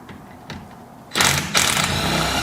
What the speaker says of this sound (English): Now let's see with if we can do it with the impact.